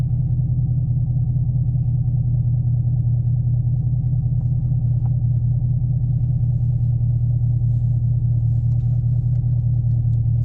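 A 2018 Chevrolet Camaro SS 1LE pulls away slowly in first gear with a light clutch, its engine holding a loud, steady, deep rumble close by, with no voices over it.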